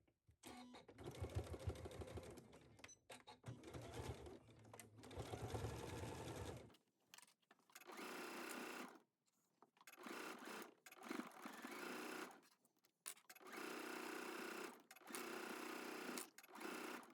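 A home sewing machine stitching a shacket runs in several bursts of rapid needle chatter, each lasting a few seconds with short pauses between, close and fairly quiet.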